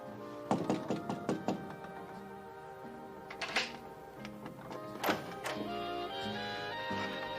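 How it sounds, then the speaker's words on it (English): Knocking on a door, a series of sharp raps in uneven bursts over a steady background of loud music, with a few more raps later on. "I've been knocking out there"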